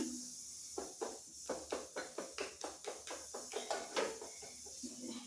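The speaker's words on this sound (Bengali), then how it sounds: "তাই আমি ভালো করে ফেটে নিচ্ছি।" Gram flour batter for begun fry being whisked by hand in a bowl, a fast, even run of soft rhythmic taps and slaps, close and quiet with no talk.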